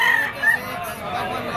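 A yellow-legged bull stag rooster crows at a poultry auction market in Lipa, one fairly close call amid the crowd's murmur and background voices.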